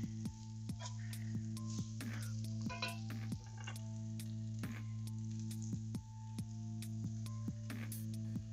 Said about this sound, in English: It's starting to slow its simmering.